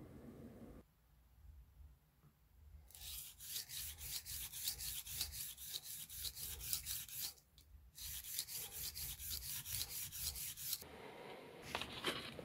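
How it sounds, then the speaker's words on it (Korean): The back of a shoemaker's knife rubbed back and forth on sandpaper to flatten it, close, repeated rhythmic rasping strokes in long bursts separated by brief pauses. "칼 뒷면을 사포에 잘 밀착시킨 다음 손잡이 부분은 위아래로 흔들리지 않도록 가볍게 쥐고 왔다 갔다 하면서 뒷면을 연마해 평탄화 작업을 진행합니다"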